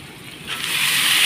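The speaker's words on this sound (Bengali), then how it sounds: "এখন আমি সব মাটনগুলো ঢেলে দেব" Mutton pieces tumble into a pan of hot fried onions, setting off a rising hiss of sizzling that swells and holds, close and loud.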